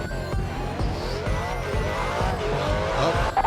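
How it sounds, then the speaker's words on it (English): A race car in a browser-based video game demo spins off the track with squealing tires over a steady, loud engine roar that runs continuously throughout. "Oh, the first car goes spinning off."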